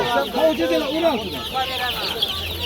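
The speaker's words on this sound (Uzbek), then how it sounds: "Bular-chi tovuqlar." Several chickens cluck and murmur continuously nearby at a poultry market, their calls overlapping against a steady background noise.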